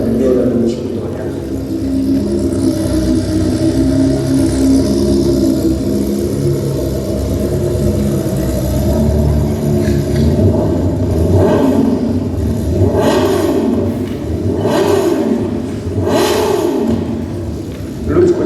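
A staged motor-engine sound effect at a cultural-holiday performance rumbles low and loud, with swelling revs that build as if approaching, while a voice speaks over it.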